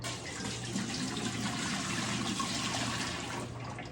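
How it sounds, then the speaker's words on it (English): Tap water pours steadily into a pressure canner fitted with a bottom rack, a continuous close rushing and splashing that holds even for a few seconds before easing off at the end. "I have to fill mine with a minimum of 2 liters of water"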